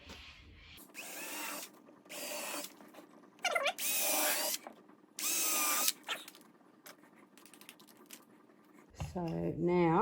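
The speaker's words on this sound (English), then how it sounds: "And pre-drill the other side." Several loud bursts of a power drill pre-drilling wood for a beehive feeder shim, starting and stopping in a stuttering rhythm, with clicks and handling noise between them and a voice near the end.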